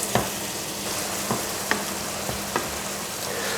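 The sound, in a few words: mince sizzling in frying pan, stirred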